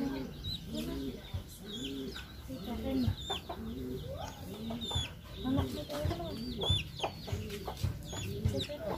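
Pigeons cooing and calling close by, a steady run of repeated low, rounded calls overlapping one another throughout, with occasional higher chirps mixed in.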